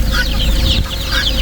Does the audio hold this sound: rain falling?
no